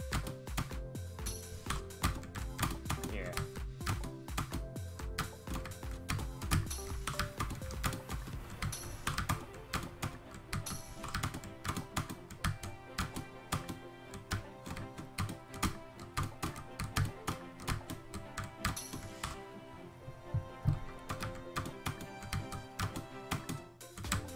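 Continuous computer keyboard typing during a C2 Challenge playthrough of I wanna be Minimal, dense clacking keystrokes and rapid taps running steadily throughout, close and fairly loud with no talk.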